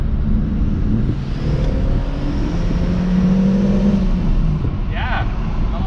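A Mk4 GTI accelerates up to speed from inside the cabin, a steady low engine and road drone building under a brief voice near the end.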